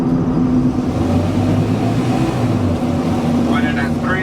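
Car engine held at steady revs while the driver downshifts without using the clutch, a continuous loud drone with a low pitch shift midway and whining at the end.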